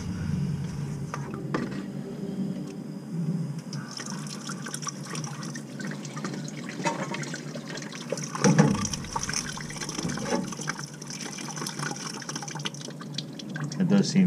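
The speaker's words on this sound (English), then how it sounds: "run the water." Water from a tap runs down the cleared drain of an Elkay drinking fountain, a steady splashing trickle heard close up while people talk briefly over it.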